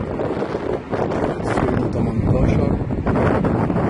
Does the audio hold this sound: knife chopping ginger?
no